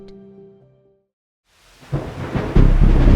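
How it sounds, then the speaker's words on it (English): A thunderstorm breaks after a brief quiet: a low rumble of thunder rises into loud, heavy rain that builds and holds as a dense, close downpour. "the rains fell heavier than ever"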